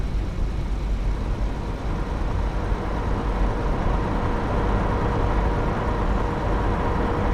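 VDL Futura FDD2 coach cruising on a Belgian highway between Ghent and Antwerp as it passes a truck, a steady low engine drone and broadband road and wind roar, loud and unbroken throughout.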